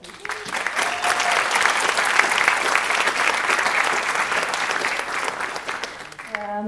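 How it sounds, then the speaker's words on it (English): An audience at a general assembly council meeting applauds a Krakow team receiving an award for best regional event, sustained dense clapping that swells and holds, with a voice speaking faintly underneath and the clapping tapering at the end. "So applause, please."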